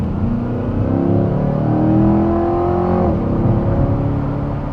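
A Chevrolet Corvette C8 E-Ray hybrid engine drones steadily and builds under hard acceleration, pitch climbing through the gears, loud and close as if heard from inside the cabin.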